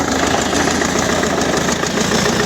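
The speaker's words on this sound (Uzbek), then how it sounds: "Traktorimiz, motorlar tiniq ishlab turibdi." An MTZ tractor with a black engine idles nearby, a loud, steady diesel rumble with a faint rhythmic knock running evenly through the whole stretch.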